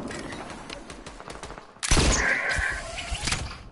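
Gunfire erupts in a video game shootout: a few faint scattered shots, then a sudden loud burst of rapid firing about halfway through that keeps crackling to the end.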